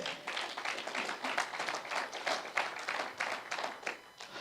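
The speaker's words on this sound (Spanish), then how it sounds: "¿Cuántos aplauden al Señor?" A church congregation in Utah claps for the Lord during a Spanish-language sermon, steady moderately soft applause with rhythmic clapping and faint voices mixed in.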